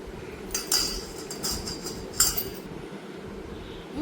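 A spoon or whisk clinks against a bowl while cake batter with sugar, salt and vanilla is stirred, producing quiet, irregular metallic taps over a soft background hum, with no talking.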